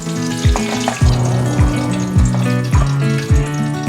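Carrot pieces deep-frying in hot oil give a bubbling sizzle, punctuated by a series of regular clunks and scrapes roughly every half second as they are stirred in the pan.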